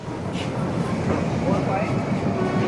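A passenger train rolls past Wankaner railway station without stopping, heard from on board as a steady, continuous rumble of wheels and carriage noise with no breaks.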